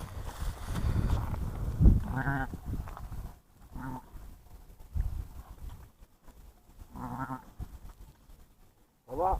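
Sheep and lambs bleat in a pasture during lambing, several separate bleats spread across the scene, some close and some softer, alongside people talking and occasional shuffling.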